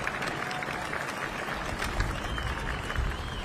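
A crowd at an evening civic gathering gives the commissioners a round of applause, a dense, steady wash of many hands clapping throughout, fairly distant and without a break.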